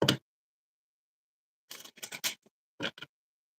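Bursts of tarot cards being riffled and shuffled, one short flurry then several quick papery clusters separated by silence, close and fairly quiet.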